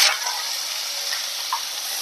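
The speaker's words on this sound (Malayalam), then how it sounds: "കടുക് പൊട്ടി നമുക്ക് സവോള ഇട്ട് കൊടുക്കാം" Chopped onions tipped into hot oil with popped mustard seeds, giving a steady bright sizzle that fills the pan for about two seconds, with a slight surge at the start and a small pop near the end.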